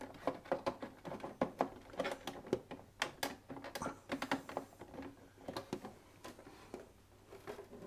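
Quiet mechanical clicks and whirring come in an irregular series of short bursts as an inkjet printer powers up and its carriage shuttles back and forth.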